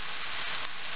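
Ossobuco meat frying in a pan, a dense, even sizzle close by that runs without a break and with no talking.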